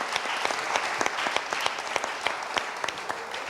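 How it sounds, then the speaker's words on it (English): A round of audience applause for panelists at a graduation-rates forum, many hands clapping in a brisk, even patter with a few sharper individual claps standing out, fairly close and continuous across the short stretch. "One more round of applause for our panelists"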